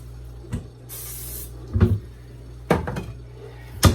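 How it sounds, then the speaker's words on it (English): A short, bright hiss of cooking spray sounds once into a bowl, bracketed by light knocks and clatters of the bowl on a counter. "spray the bowl a little bit."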